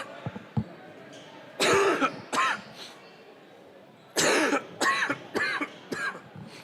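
Two bursts of harsh coughing, each a quick run of several loud coughs, separated by a few seconds of quieter background with faint clicks, during a boys' basketball game broadcast.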